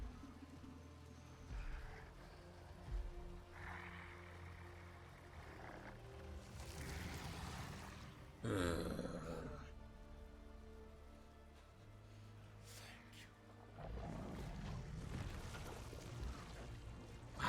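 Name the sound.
rain falling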